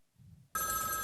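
A telephone in the film Phone Booth starts ringing abruptly after a low rumble, a loud, bright continuous electronic ring filling the rest of the moment.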